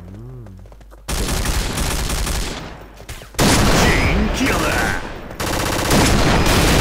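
Rapid gunfire in the shooter game Point Blank, bursts of automatic fire and shots in loud stretches broken by brief pauses, with a game announcer voice and someone talking over it.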